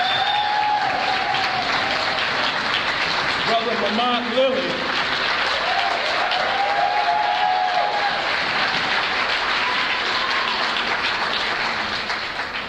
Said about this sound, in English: let's give a big round of applause to Sister Monica.